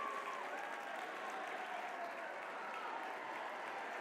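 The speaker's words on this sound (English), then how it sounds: "Give Chris a nice round of applause." An audience gives a keynote speaker at a DECA 2017 event a steady, dense round of clapping that fills the room evenly for several seconds, heard from within the crowd.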